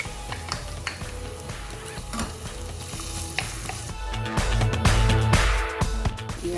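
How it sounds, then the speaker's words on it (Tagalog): Garlic and ginger sizzling in hot oil for a beef with broccoli dish, stirred with a utensil scraping and clinking against the pan, the frying hiss growing louder and brighter in the second half. "First, we have to put some oil, garlic,"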